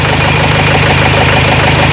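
Renault Trafic van diesel engine running rough at idle with a misfiring injector, a loud, close, uneven knocking chug that continues steadily without talk.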